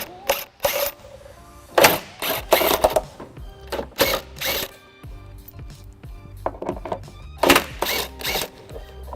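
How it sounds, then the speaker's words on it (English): Electric impact wrench with a 15mm socket removing hitch-mounting bolts on a 2004 Pontiac Aztek, heard as several loud, short hammering bursts separated by brief pauses, with clanks and handling noise in between. "I'll be using electric impact with a 15mm socket."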